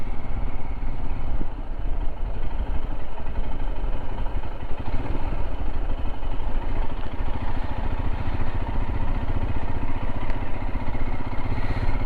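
A Royal Enfield Himalayan motorcycle engine runs steadily while the bike is ridden through the French town of Châteaulin, with a constant low rumble and some wind noise and no talking.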